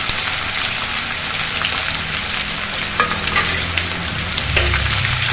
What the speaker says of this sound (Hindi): इसी तरह से लगातार इसको चलाते भी रहेंगे जिससे जल ना जाए और इसको हमें इसी तरह से गुलाबी होने तक भून लेना है